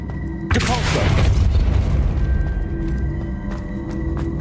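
A spell cast in the Hogwarts Legacy video game lands as a loud, deep boom with a burst of crackling energy, then a sustained rumbling tail that fades slowly under faint ambient tones.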